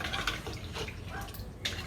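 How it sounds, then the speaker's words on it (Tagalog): Fresh river water being poured into a cooking pot for sinigang, a splashing, trickling stream close by, fairly quiet and steady with a few brighter splashes. "Lalagyan na tayo ng tubig."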